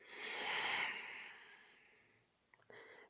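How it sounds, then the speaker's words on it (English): A slow, audible breath during a breathwork class, a soft airy whoosh that swells and fades over a couple of seconds, followed by a short, quieter second breath, close and faint with no talk. "Listening to the breath as it flows in and out of the body."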